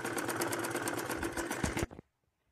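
A sewing machine runs at a fast steady buzz while stitching thin fabric piping for a garment, then stops abruptly, leaving near silence for the last half second.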